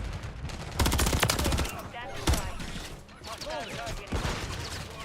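Rapid bursts of SMG pistol fire in Modern Warfare III multiplayer, loud and close, with repeated short volleys and a few single shots.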